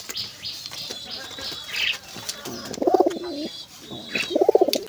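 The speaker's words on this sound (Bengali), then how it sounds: "এইখানে দেখেন আমাদের কিং কবুতরটা আছে" Domestic pigeons, including a king pigeon, coo in a loft, with two low rolling coo phrases standing out near the end over faint chirps and light scratching.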